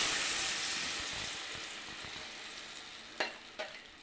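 Jackfruit pieces fry in a spoonful of ghee in a pan, giving a steady soft sizzle and hiss, with a few brief stirring knocks near the end and no talk.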